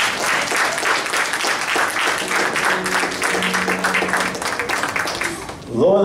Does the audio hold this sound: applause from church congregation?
yes